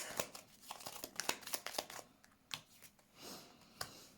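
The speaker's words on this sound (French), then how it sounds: "Alors, je vais mettre quand même une troisième carte." Tarot cards being shuffled and laid out, giving faint, close papery flicks, snaps and soft slides in an irregular patter, with no talking.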